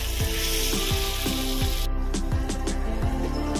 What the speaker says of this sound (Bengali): আমি এর মধ্যে ভেজে রাখা কচু দিয়ে দেব।